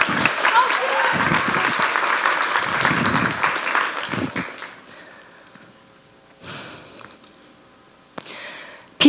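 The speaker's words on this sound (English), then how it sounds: "Please give her a round of applause as we welcome her onto the stage." Audience clapping to welcome a woman onto a stage, a full burst of applause for about four seconds that dies away into quiet with a few brief rustles.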